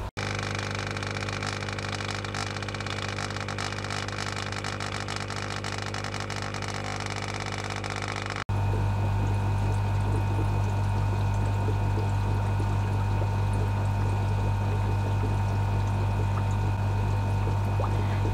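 Central air pump for a fish room running with a loud, steady hum and hiss that shifts abruptly to a different, quieter-toned drone halfway through, continuing unbroken.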